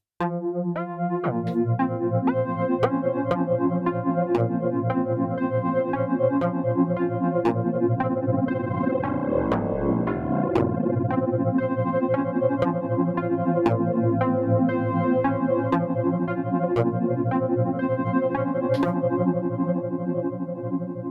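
A sustained, dense OP-1 Field synthesizer drone with a slowly sweeping filter modulated by its envelope, dipping and opening midway, steady and continuous throughout with occasional bright clicks.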